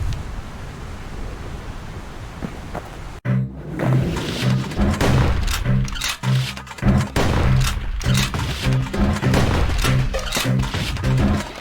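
Rapid bursts of gunfire from Bastion's Trigger Hill firing range ring out loud and close after a sudden start, layered over booming impacts and a steady musical bed.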